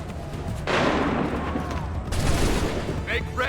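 Musket volley in Assassin's Creed 3: a dense, loud crackle of many shots erupting together, then a second ragged volley a moment later, with battlefield noise continuing beneath.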